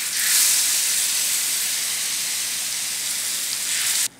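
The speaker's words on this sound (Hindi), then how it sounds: "इसको हमें अच्छे से फ्राई करना है" Paneer with turmeric and red chilli powder fries on a tawa pan over medium gas, a loud steady sizzling hiss close by that cuts off abruptly at the end.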